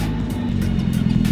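Low-budget drift car engine droning loud and close while doing slow second-gear donuts on a track, a continuous rough, throbbing low rumble with slight rises in revs.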